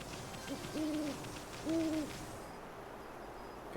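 Owls in the video game Okami give two clear hoots, each a short rising-and-falling call about a second apart, fairly loud over a soft ambient game background, with no one talking.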